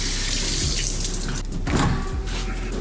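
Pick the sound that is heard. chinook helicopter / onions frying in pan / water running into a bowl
water running into a bowl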